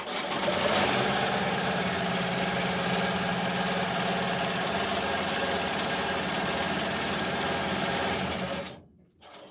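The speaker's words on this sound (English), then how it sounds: "I'm just going to go back to the machine and tack it down first" An embroidery machine stitches a tack-down line on a stuffed cow toy made in the hoop, a steady, close, rapid mechanical whirring that runs unbroken for several seconds before stopping abruptly near the end.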